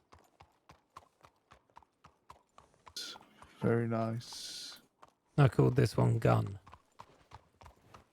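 Steady hoof clops of a horse in a video game tap out an even walking rhythm, briefly covered as a person speaks twice in a low voice before the clopping continues alone.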